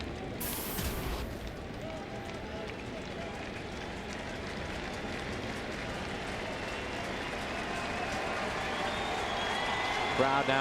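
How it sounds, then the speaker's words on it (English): Baseball crowd at a Rockies–Cardinals game cheering as it comes alive late in an at-bat, a broad, steady roar that swells toward the end, with a play-by-play announcer talking over it. "Crowd now comes alive."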